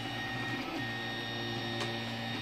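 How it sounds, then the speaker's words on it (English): 3D printer running with its covers off while printing the top lines of a test cube, a steady close whine of stepper motors with small shifts in pitch, no talking. "it looks like it's down to printing the lines on the top, finishing up the cube"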